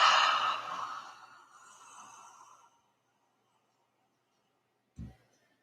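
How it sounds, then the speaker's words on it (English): One long, deep breath pushed out forcefully during a Bikram yoga session, a breathy exhale that fades over a couple of seconds, then silence and a short low puff of breath. "Exhale. Push it all out."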